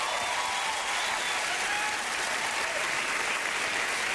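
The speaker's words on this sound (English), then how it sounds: "Hop in a hand for Laura Hall on the piano." Studio audience at the improv comedy show Whose Line Is It Anyway applauds for the pianist: loud, dense clapping and cheering that holds steady for the full stretch, with no speech over it.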